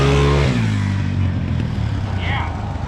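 A Yamaha Big-Wheel motorcycle engine rumbles steadily nearby, its note shifting lower as the bike pulls away.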